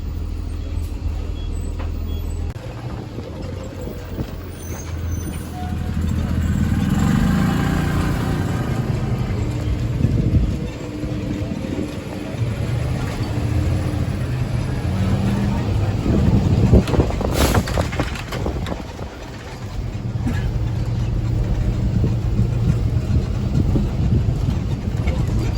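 A car cruises slowly past the National Memorial Cemetery of the Pacific, its steady engine rumble and road noise joined by wind buffeting and passing traffic, while people talk inside the vehicle.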